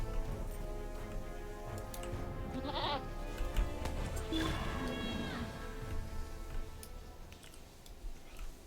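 A goat bleats in a video game, a wavering cry rising over a continuous bed of game music and ambient sound with a speaking voice nearby.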